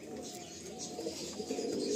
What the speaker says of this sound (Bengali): এগুলো হচ্ছে গিরিবাজ লাইনে টপ কোয়ালিটির পায়রা এগুলো